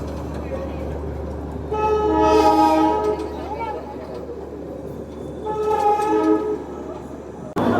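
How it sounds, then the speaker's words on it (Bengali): Darjeeling toy train on the move, sounding two long horn blasts separated by a pause, loud and close over the rolling rumble of its wagons, with a brief sharp knock at the end. "বাতাসিয়া লুপ থেকে আমাদের টয় ট্রেন আবার বেরিয়ে যাচ্ছে।"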